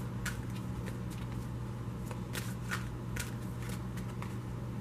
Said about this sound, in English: so I'm only going to shuffle it for a moment